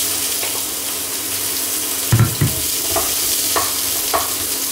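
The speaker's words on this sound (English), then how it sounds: "we can dump in our onions here" Onions tipped into hot olive oil in a pan for a pork belly and silk squash stir-fry, giving a sudden loud sizzle and clatter that settles into a steady frying hiss with a few stirring scrapes.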